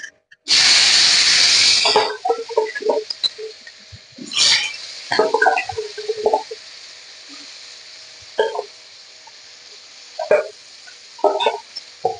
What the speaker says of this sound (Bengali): আলুটা ভাজতে বসিয়ে দিই।